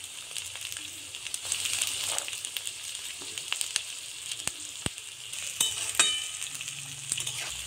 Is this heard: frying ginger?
yes